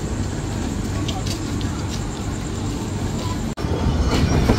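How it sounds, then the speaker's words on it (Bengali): Nilsagar Express pulling out of Phulbari railway station, a steady loud rumble of wheels and carriages heard from on board, with talk mixed in and a brief drop near the end. "ট্রেনটি ছেড়ে যাচ্ছে ফুলবাড়ি রেলওয়ে স্টেশন"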